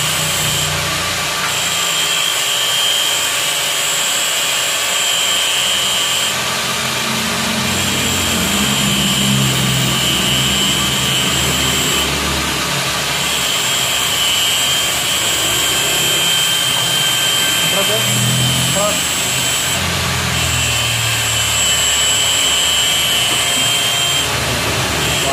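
Honda 800 engine cranked on its starter after sitting unused for 14 years: a loud, continuous whirring drone with periodic surges, close to the microphone, with no voices over it.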